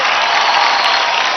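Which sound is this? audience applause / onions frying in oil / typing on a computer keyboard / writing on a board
audience applause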